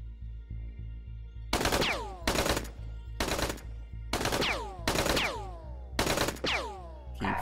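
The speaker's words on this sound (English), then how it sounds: "Keep firing in their general direction." Bursts of gunfire from the video game OpenXcom: six or seven loud, sharp volleys in an uneven rhythm, each ringing out briefly, over a steady low background hum.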